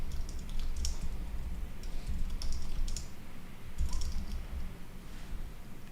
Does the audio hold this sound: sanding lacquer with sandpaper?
no